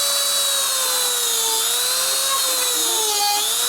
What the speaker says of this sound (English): I'm just gonna take a Dremel and grind them down flush